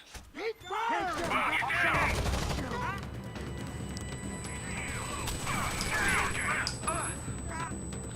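Sustained gunfire in the tactical shooter game Rainbow Six: Vegas, dense and loud across the whole stretch with bursts and crashes, while voices talk over it.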